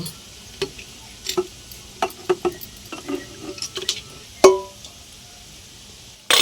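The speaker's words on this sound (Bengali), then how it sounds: "আলুটা লাল করে ভাজা হয়ে গেছে, তুলে নিলাম।" Potatoes fry in a pan for a mutton curry, a faint sizzle under sparse clicks and scraping stirs of a utensil against the pan, with one louder clank near the end.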